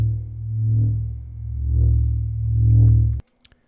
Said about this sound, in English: I created kind of a pulsing sound at Vital that sounds like this.